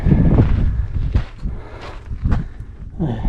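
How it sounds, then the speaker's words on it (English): Loud gusts of wind on a trail around Mount St Helens buffet the microphone close up, swelling and dropping in uneven bursts; scattered rustling and a few thumps, no clear speech. "Windy."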